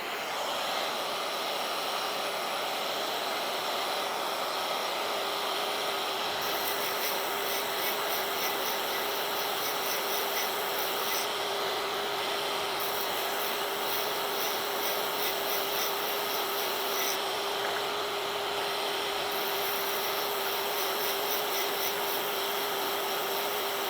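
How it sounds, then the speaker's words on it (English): Sandpaper rubs against a wooden pen blank spinning on a lathe, a steady hissing rasp over the lathe's constant whine, with shifts in brightness as the paper is moved or pressed harder. "And now we'll get to sanding."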